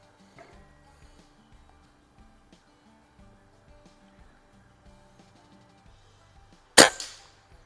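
A Beeman QB Chief air rifle fires at a metal silhouette target in a backyard, one sharp, loud crack followed by a quick metallic ring, after a stretch of faint clicks and background quiet.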